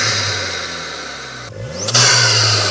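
A VW MK8 GTI fitted with a CTS Turbo intake idles loudly up close, then drops briefly before the engine revs up sharply into a sustained higher-pitched roar with a whooshing intake note.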